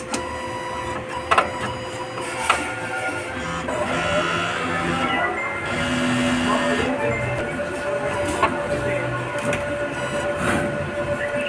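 An inkjet printer runs a head cleaning cycle, a steady mechanical whir with scattered clicks and brief tonal hums, close and moderately loud, with faint voices in the background.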